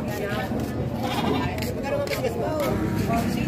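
Goats bleat at a busy cattle trading market amid the babble of nearby people talking, the animal calls short and wavering over constant crowd noise.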